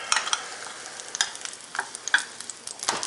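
A homemade burger patty, hand-shaped and not frozen, fries in a pan for a copycat Big Mac, giving a close, steady crackle with scattered sharp pops and light stirring scrapes.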